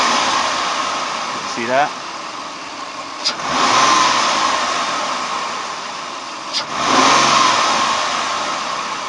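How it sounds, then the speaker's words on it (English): A car engine on a P0401 EGR diagnosis job, revved twice as the throttle is snapped, each surge rising sharply then settling back toward idle, close by, with brief talk in between. "I'm going to snap the throttle"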